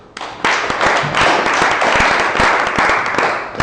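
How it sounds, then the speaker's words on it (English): Audience at a Bitcoin and blockchain talk breaking into steady applause that starts suddenly and holds for several seconds, dense clapping from many hands filling the room. "So please a big applause for Tim Pastoor."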